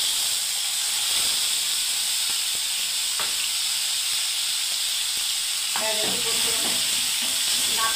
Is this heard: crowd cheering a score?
no